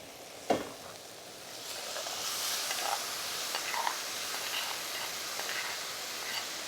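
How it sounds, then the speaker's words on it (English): Salsa lands in a hot pan of browned eggplant with a soft thump, then a steady, close sizzle and hiss continues, with faint stirring noises. "Now the salsa will go in."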